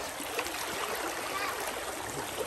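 A river current flows steadily as rushing, broadband water noise fills the scene evenly throughout, close and continuous with no breaks.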